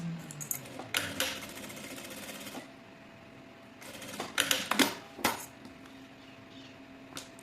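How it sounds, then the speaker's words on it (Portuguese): Short bursts of a sewing machine running a seam through fabric and synthetic interfacing, a quiet rapid clatter that starts and stops in several brief runs with small handling clicks between. "vamos passar a costura pela parte de trás"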